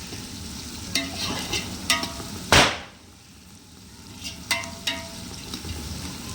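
Onions fry in a pan for mutton biryani, a moderate sizzle broken by repeated stirring scrapes and knocks of a utensil, including one sharp loud clatter midway; no talking.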